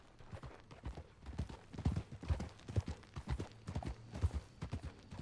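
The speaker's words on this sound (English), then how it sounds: "Looking at the horse out of the stable, Hercules is a good name for him." Horse hooves in the video game Red Dead Redemption 2 make a steady, even clip-clop of a walking horse, close and moderately loud, running through the whole stretch without any talk.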